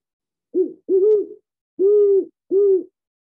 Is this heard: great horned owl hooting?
yes